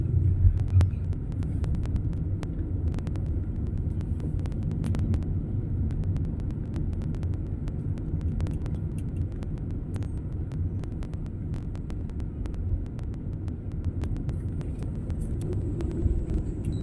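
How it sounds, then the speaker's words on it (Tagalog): Road traffic near the C5 flyover: a steady, fairly loud low rumble of cars and engines that holds evenly throughout, with a few faint clicks on top and no talking. "Traffic."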